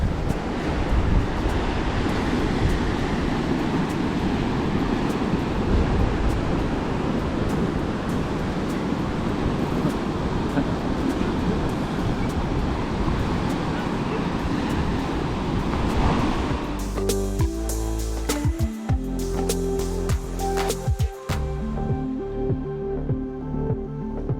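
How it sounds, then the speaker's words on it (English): Surf rolls in at Pippi Beach in Yamba, a continuous broad wash of breaking waves mixed with wind buffeting the microphone, steady and fairly loud, before it shifts to a different, more tonal background near the end; no one speaks. "Very pretty beach, all the pandanus palms along the edge of the sand."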